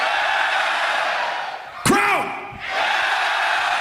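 Crowd at the Grand Beatbox Battle 2024 semi-final in Tokyo roaring and cheering loudly and continuously, with a sudden slam-like boom and a brief sweeping tone cutting through midway before the roar swells back.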